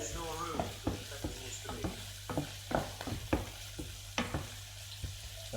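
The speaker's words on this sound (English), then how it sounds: "Okay, well that's sizzling away." Green, red and yellow peppers fry in a pan with a steady close sizzle, punctuated by repeated sharp scrapes and clacks of stirring throughout.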